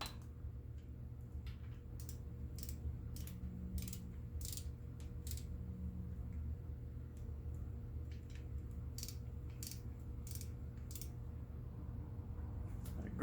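Ratchet wrench tightening bolts on a Ford 4.6 Mod Motor, a steady series of quick clicking ratchet strokes close by, quiet and mechanical, with no talking.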